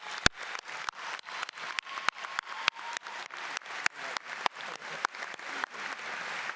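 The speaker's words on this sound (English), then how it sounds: "Everyone in this room, give yourselves all a round of applause." Graduation crowd at a high school ceremony applauding, with scattered sharp claps punctuating a steady wash of clapping that carries on throughout, fairly soft and distant.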